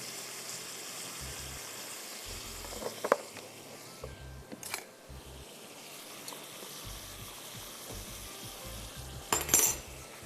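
Chicken mixture frying in a pan of cooking oil gives a steady soft sizzle throughout, with occasional utensil scrapes and stirring clatter, louder bursts near the middle and the end.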